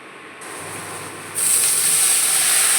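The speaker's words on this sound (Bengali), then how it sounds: "5 ফোড়ন, তেজপাতা, শুকনো লঙ্কা ফোড়ন দিচ্ছি তেলের মধ্যে" Five-spice, bay leaf and dried chilli sizzle in hot oil, a steady hiss that jumps sharply louder partway through and holds there, with no voices.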